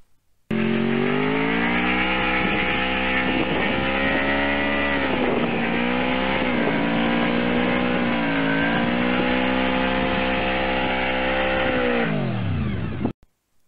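A Honda VFR 750F motorcycle's V4 engine runs steadily for about twelve seconds, a loud, close, even drone with slight rises and dips in revs before it cuts off abruptly.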